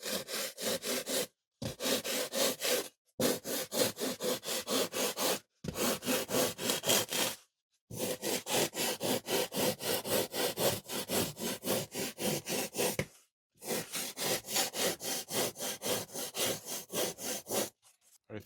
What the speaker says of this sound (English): I've got a rasp.